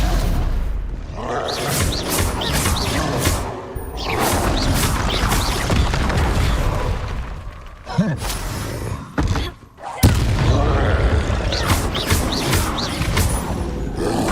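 Explosive spells Confringo and Bombarda go off in Hogwarts Legacy, a run of loud blasts, crashing thuds and booms in dense, chaotic bursts with brief lulls and sharp hits, amid combat sounds.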